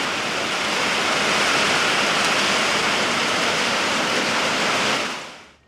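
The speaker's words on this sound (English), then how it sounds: "it started getting heavier and heavier. I'm like, yeah, I think you ought to get in here out of the rain." Heavy rain pours steadily at a tiny house construction site, a dense, loud, even hiss that holds for several seconds before fading out at the end, with no talking.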